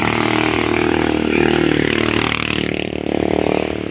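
A motorcycle engine runs steadily at close range, droning and rattling with a slight rise and fall in revs, loud and continuous with no talking over it.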